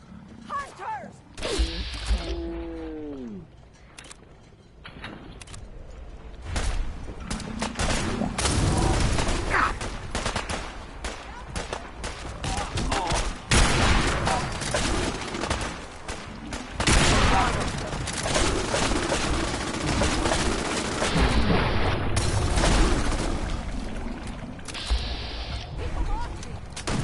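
Battle gunfire in the Fallout 4 Far Harbor game: dense, continuous fusillade of overlapping shots and bursts through the whole stretch, loud and chaotic, with shouted voices mixed in.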